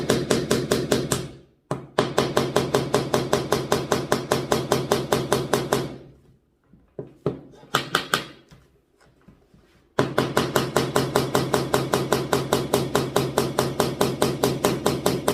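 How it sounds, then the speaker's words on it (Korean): A hammer drives nails into wood during a woodworking class building a wooden book stand, with rapid, evenly spaced loud strikes in long runs, broken by a short pause and a few scattered taps. "망치를 못이 삐뚤어진 각도와 똑같이 망치질을 하시면 됩니다"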